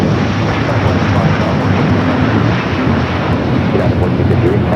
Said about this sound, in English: A330 Neo heading back to Lisbon.